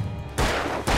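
In the Alan Wake video game, two sharp, loud gunshots crack close by, the first followed by a dense burst of noise and the second striking right at the end.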